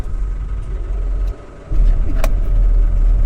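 A Kia Sorento four-wheel-drive SUV drives along a light off-road track to a durian orchard, its engine and road rumble steady and close, dipping briefly midway before returning stronger.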